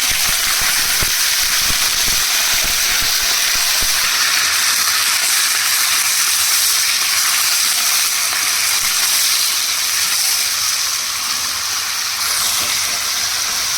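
Fish and tomatoes hitting hot oil sizzle loudly and steadily, a dense continuous hiss with a few crackling pops early on that carries on unbroken to the end.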